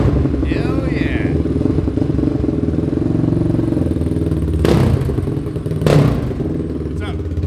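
A 1997 KTM 620 single-cylinder motorcycle fitted with an FMF full megaphone exhaust runs nearby with a steady thumping idle, two sharp clattering thuds cutting through partway along.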